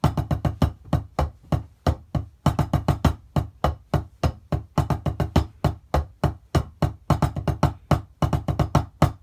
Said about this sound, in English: if you play it with the diddles, it sounds like this